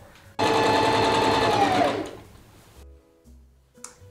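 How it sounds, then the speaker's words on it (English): A sewing machine stitching a pinned sleeve of a Joker costume, a steady close whirring run of about a second and a half that slows and stops, followed by faint handling clicks. "So I'm gonna sew it and see what happens."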